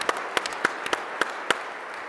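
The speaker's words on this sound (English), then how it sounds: "Please give them a round of applause" A few scattered, separate claps ring out from a conference audience at a regional business summit, faint and spaced apart, with no talking.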